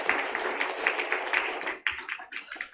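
Church congregation applauding during a Sunday service, a steady wash of many hands clapping that fades out near the end, moderately loud in a reverberant room.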